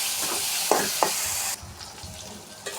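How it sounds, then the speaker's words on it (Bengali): Dried fish fries with garlic paste in a pan: a steady sizzle with two sharp spatula knocks, then the frying drops to a quieter hiss, close by with no talk. "একটু রসুন বাটা দিয়ে এটার সাথে ভেজে নিব"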